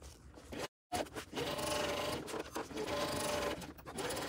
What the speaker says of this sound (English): We're just going to sew straight up the side of the exterior and then the interior